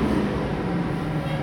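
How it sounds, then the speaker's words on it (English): A large truck rumbles past nearby, a steady heavy low-pitched drone filling the moment with no talk over it. "Sorry for the noise, the big-ass truck."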